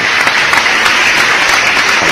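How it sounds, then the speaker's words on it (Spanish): A loud, dense burst of applause: many hands clap at once in a continuous, even roar that stays steady from start to finish, with no talking over it. "¿dónde están esos aplausos?"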